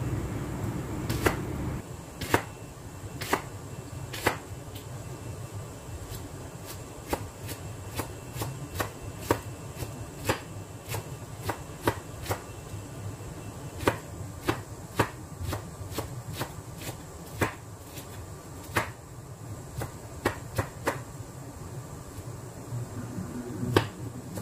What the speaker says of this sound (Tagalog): tapos na nating nahiwa yung sibuyas